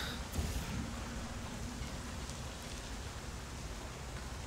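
Rain in the Portal: Revolution video game, a steady, soft hiss of falling rain that carries on evenly for several seconds, with no speech.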